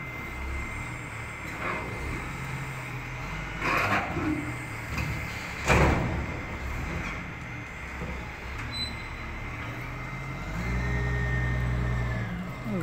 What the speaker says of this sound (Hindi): गाड़ी सब जो है लाइन में लगा हुआ है और एक एक करके जो है बढ़ा रहा है गाड़ी खाली करने के लिए।